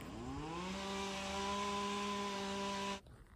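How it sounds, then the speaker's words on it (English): Small engine running at a steady high pitch, a lawnmower-like buzz with strong harmonic whine that holds evenly for about three seconds, then cuts off abruptly into quiet background. "Oh, that was just a lawnmower."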